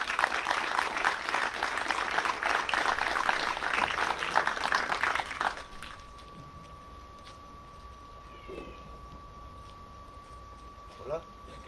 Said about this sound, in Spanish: Les voy a pedir entonces un fuerte aplauso para la primera voz de esta noche